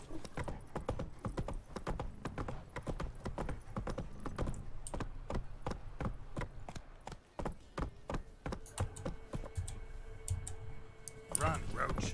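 Roach the horse galloping in The Witcher 3: a steady, rapid clip-clop of hooves running continuously and fairly close, with a voice talking intermittently over it.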